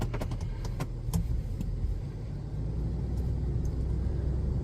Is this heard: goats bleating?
no